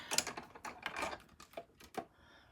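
Die-cutting machine grinding a card and adhesive sheet through the rollers, a close, dry mechanical clatter of uneven ticks and rasps lasting a couple of seconds before trailing off.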